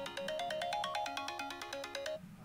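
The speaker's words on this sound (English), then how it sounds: "mute that so you guys don't all hear my phone ringing" A mobile phone ringtone chimes close by in a quick, repeating melodic pattern of bright tones that cuts off near the end.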